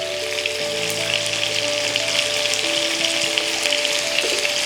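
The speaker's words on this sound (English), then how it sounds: "Now, I'm going to add 3 cups of water." Loud, steady sizzling hiss as water is poured into a hot pan of chicken for jjimdak, crackling continuously throughout with no talking.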